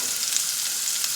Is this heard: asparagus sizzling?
yes